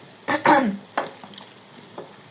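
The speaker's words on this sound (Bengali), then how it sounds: "কত লাল লাল করে মুচমুচে করে ভাজি করছি" Fish belly pieces fry crisp in a pan, with a few sharp clattering stirs and spoon-on-pan knocks over a faint, low sizzle.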